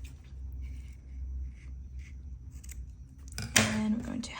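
Scissors snip through crochet yarn close up, a short sharp cut near the end after a stretch of quiet low room rumble.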